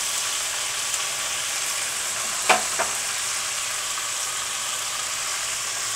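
Onion fries in a spice mixture with garlic, ginger and chilli for a whole mutton leg roast, a loud steady sizzle with one or two sharp scraping clinks of stirring partway through.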